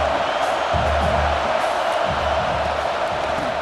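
Stadium crowd cheering in the EA Sports College Football 26 video game, a steady, dense roar of many voices that swells and holds throughout without a break, with no speech standing out.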